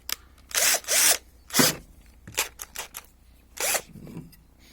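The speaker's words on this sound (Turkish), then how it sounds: "içinden çıkan en büyük ahşap delme ucunu alıyorum şu an" A JCB 36V cordless impact drill with a large wood bit whines in several short bursts of varying length drilling chestnut wood, separated by pauses with faint knocks and handling noises.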